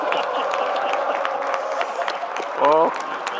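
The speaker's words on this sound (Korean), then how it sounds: "이렇게 만들어주신 대통령님께 박수 한번 우리 부탁드리겠습니다." Audience applause fills a town hall meeting hall with the president of South Korea present in Gyeongnam, a steady dense clapping wash with a brief voice rising near the end.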